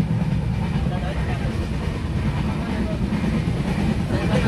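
Steady low rumble and rattle inside a moving sleeper-class train on a trip to Mumbai, constant and close throughout, with faint voices murmuring in the background.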